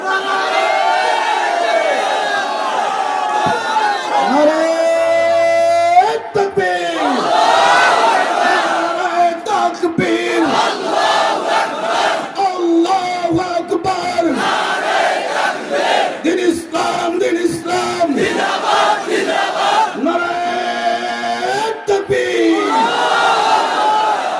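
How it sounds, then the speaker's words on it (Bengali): A large crowd of young men chants slogans in loud rhythmic unison, answering a lead voice in call-and-response bursts, with shouts and cheers swelling throughout. "কিছুক্ষণ স্লোগান দাও"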